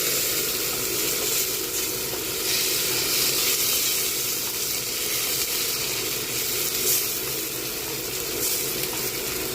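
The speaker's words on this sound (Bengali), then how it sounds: "ফোড়নটা একটু ভাজা করে নেব।" Cloves, whole cardamom, bay leaves and a piece of cinnamon sizzle in hot oil with a continuous, even crackling hiss at moderate volume.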